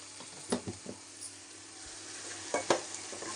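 Ground tomato with rock salt fries gently in a pan for a chapati thokku. A soft sizzle runs underneath while a few brief stirring scrapes and clacks come in short bursts, quiet and close.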